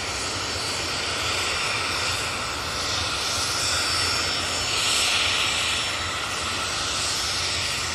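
A jet airliner's engines roar steadily at Manchester Airport as it gets going, a broad, sustained rumble and hiss holding near and loud throughout with no talk.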